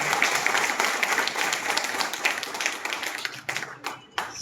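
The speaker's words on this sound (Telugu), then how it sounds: "ఒకసారి మీరు చప్పట్లు కొడితే" An audience at a municipal election meeting breaks into sustained applause, a dense, loud wash of many hands clapping that thins into scattered claps toward the end.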